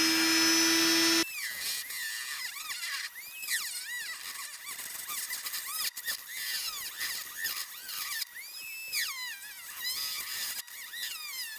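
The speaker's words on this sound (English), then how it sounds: "I actually found one of my old Dremel tools, so it's working better than the cheap thing that I bought at Harbor Freight" Dremel rotary tool cutting into the dash of a 1998 Dodge Dakota, a high whining buzz that rises and dips in pitch as the bit bites, close and loud with short pauses.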